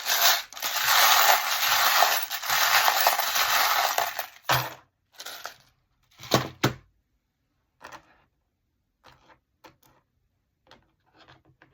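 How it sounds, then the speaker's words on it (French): A pile of charms rattles and clinks as it is handled: a sustained loud jangling shuffle for about four seconds, then a few separate clattering bursts and sparse faint clicks fading into near silence. "Alors maintenant, on va regarder les breloques. Attention, ça va être un petit peu bruyant."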